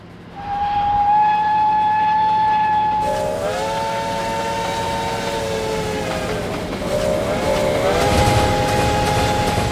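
A steam locomotive, number 750 pulling an excursion train, sounds a loud sustained whistle that shifts into a chord, with steady hiss and rolling train noise continuing close by throughout.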